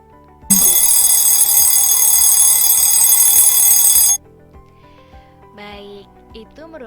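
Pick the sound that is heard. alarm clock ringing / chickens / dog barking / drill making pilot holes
alarm clock ringing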